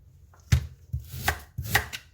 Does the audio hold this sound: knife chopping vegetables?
yes